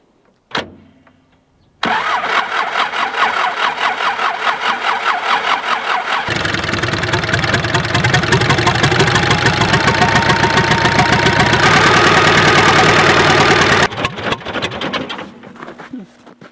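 A tractor engine cranks with a short starter whir, then catches and runs loudly up close, settling into a steady rumbling idle with a rhythmic chug that shifts in pitch before dropping off near the end.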